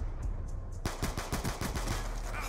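Rapid automatic gunfire in the video game Black Ops 2 bursts in abruptly after a quiet start, then continues as a loud, dense string of close shots with short gaps between bursts.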